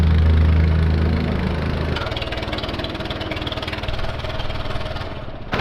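A compactor engine runs rough in a shed, a loud uneven knocking idle that shifts its pitch after two seconds and keeps sputtering irregularly.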